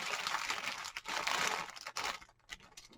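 Hands rummage through a bag of old plastic parts, including acrylic lenses and diode mounts, making close crinkling and rustling bursts with short pauses between them.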